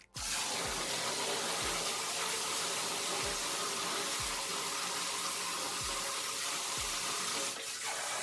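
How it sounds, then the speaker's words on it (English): Tap water runs steadily over a head as shampoo is rinsed out of curly, wavy hair, a continuous close hiss with occasional low thumps, alone without talk. "I just sort of let it run from the top of my head to rinse it off"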